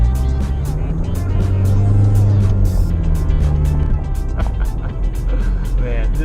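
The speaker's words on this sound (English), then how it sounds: "With this turbo inside, oh man, the turbo just kicks in every single time." A 2014 Subaru WRX with a turbocharged engine pulls hard under acceleration, a loud, steady engine drone rising and falling in pitch from inside the car, with a voice talking over it throughout.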